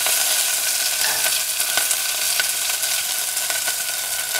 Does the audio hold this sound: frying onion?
yes